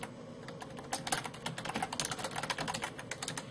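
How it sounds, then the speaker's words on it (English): Fingers type on a computer keyboard in a quick, irregular run of close, crisp key clicks, a few louder strokes standing out, with no voices. "let's go ahead to our balance sheet and type in retained earnings."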